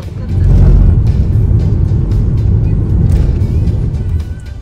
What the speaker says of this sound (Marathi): पाठीमागची गाडी थांबलेली आहे